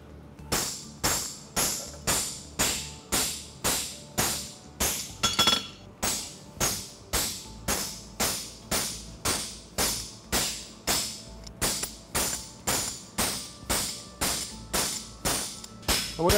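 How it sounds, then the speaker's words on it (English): An aluminum lateral extension front horseshoe is hammered cold and flat on an anvil, with sharp ringing blows in a steady, evenly spaced rhythm and a brief pause partway through. "Lots of overlapping blows to make it flat."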